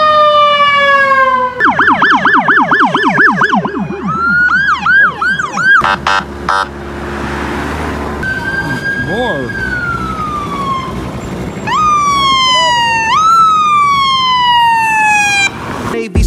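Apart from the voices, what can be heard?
ambulance siren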